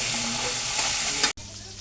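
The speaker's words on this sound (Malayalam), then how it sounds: "കുറച്ച് പരലുമീനും ഇതാ വറക്കണം." Small paral fish fry in a pan with a dense, even sizzle that stops abruptly near the end, then resumes more quietly.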